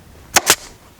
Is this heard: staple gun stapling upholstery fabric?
yes